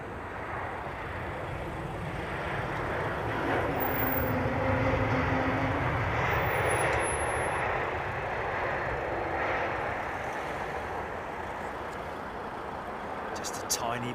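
An Embraer E2 airliner lands on runway 27R with a light touch of thrust reverser, giving a soft, distant rumbling roar that swells and eases, with voices talking over it.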